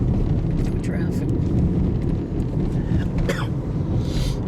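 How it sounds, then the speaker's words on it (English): Road traffic streams along Preston Avenue in Saskatoon on a mild spring day with melting snow, a continuous broadband rumble of passing cars, close and steady, with brief tyre hiss and gusts over it. "Traffic."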